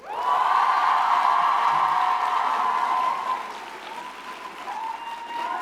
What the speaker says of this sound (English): I want you to give a big round of applause for each one